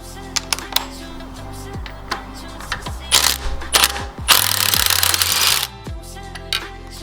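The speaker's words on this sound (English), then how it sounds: "They're 14 mils, so we're gonna zap those off." A power tool zips 14 mm bolts off an exhaust elbow on a 1JZ-swapped S13, with short spin-up bursts and longer whirring runs mixed with clanks and ratcheting clicks.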